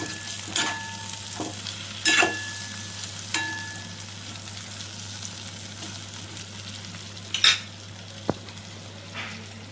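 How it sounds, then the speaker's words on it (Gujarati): Bubbling, sizzling stuffed bitter gourd curry simmering in a pan, steady and close, with a few sharp clinks of a spoon against the pot. "અહીંયા કારેલા ભરી લીધા છે અને શાક પણ વઘારી લીધું"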